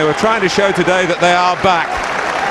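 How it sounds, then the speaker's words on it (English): A football stadium crowd applauds during a Wigan v Charlton Athletic match, a steady wash of noise running under a commentator's voice throughout. "So plenty of applause for Wigan"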